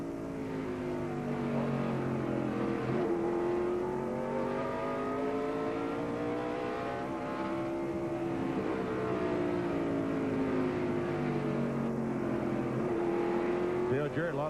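NASCAR stock cars roar around the track at the 1996 Tyson Holly Farms 400, engines droning continuously with rising and falling pitch as cars pass, loud and steady throughout.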